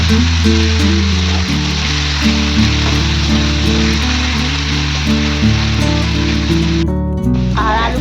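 Potatoes frying in hot oil for a chow mein breakfast give a steady, dense sizzle that runs throughout, partly buried under loud background music with a sustained bass tone.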